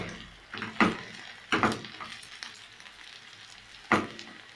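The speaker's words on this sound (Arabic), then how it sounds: "بعد ما سخن الزيت غادي نرميو الدنجال ديالنا" Eggplant slices frying in hot oil in a home kitchen, a steady low sizzle broken by several sharp clatters of stirring utensils against the pan, close up with no voices.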